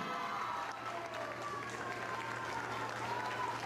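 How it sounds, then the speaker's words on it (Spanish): A crowd at a quinceañera party applauds the hostess, steady clapping heard somewhat distantly with a low hum underneath. "aplauso para ella"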